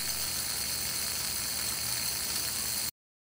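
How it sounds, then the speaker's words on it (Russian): A synchronous electric motor spinning steadily under rising voltage, giving a continuous broadband whir with a high whine, fairly loud and close, until it cuts off abruptly. "Постепенно увеличиваем напряжение, и двигатель вращается все быстрее и быстрее."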